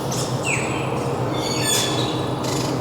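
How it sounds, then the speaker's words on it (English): Bright laughing thrush calls ring out at a zoo over a steady wash of outdoor noise, several sharp whistled phrases in quick succession. "Laughing thrush hollering at the sun bittern."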